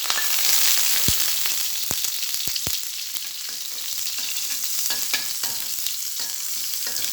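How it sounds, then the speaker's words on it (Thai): Chopped garlic fries in hot oil in a wok, a loud, close, steady sizzle with a bright hiss, punctuated by several sharp scrapes and knocks of a spatula stirring; no talking. "นี่ค่ะเจียวกระเทียมให้หอม"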